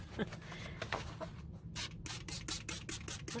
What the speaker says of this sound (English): spray it with coffee.